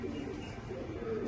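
A pair of Pakistani flying pigeons cooing softly and continuously, a low murmuring coo under steady background noise, close by and without clear breaks.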